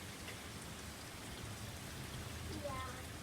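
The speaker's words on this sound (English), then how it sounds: "Let's just be quiet and watch the rain." Steady rain falling outdoors, a soft, even hiss of drops on surfaces that continues unbroken throughout, quiet and fairly distant, with no talking.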